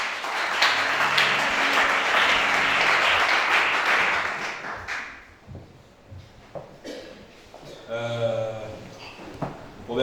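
A church congregation applauds loudly for about five seconds at a worship service, then the clapping fades into scattered claps, shuffling and a voice speaking near the end.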